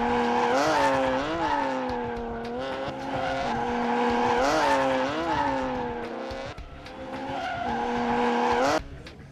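At a drift event in Atlanta, a Mopar drift car slides with loud, sustained tire squeal that rises and falls in pitch over roaring engine revs, fairly close and continuous before cutting off near the end.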